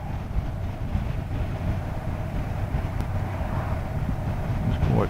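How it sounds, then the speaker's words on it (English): Wind buffets a rider on a Honda NC750 motorcycle on a breezy day, a dense, continuous rumbling roar with engine and road noise mixed in, steady and loud throughout. "get a little bit of buffeting from the wind"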